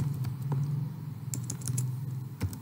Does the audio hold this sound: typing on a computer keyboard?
yes